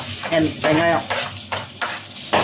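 Vegetables sautéing in a pan for pasta, a steady close sizzle broken by several bursts of stirring and scraping, with no talk.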